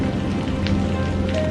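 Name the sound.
heavy rain in a cartoon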